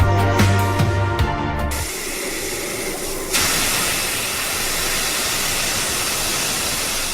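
Steam hissing from geothermal wells in a steam field at a geothermal power plant, a loud continuous roaring hiss that follows a brief burst of tonal noise at the start and then holds steady and close.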